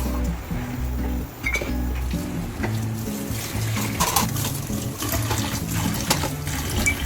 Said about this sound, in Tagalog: maghuhugas na rin tayo ng pinggan